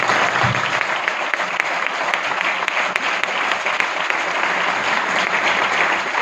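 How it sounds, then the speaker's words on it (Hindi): Loud, dense applause from a mentorship event audience fills the whole stretch, steady and sustained with no voices over it. "एक बार जोरदार तालियां होनी चाहिए मेरे लिए।"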